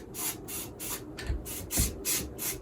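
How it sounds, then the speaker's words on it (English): A can of spray paint hisses in a series of short, evenly spaced bursts, about seven quick sprays in a rhythmic pattern, close up and fairly soft, with light thumps between them. "spray paint around the wreath"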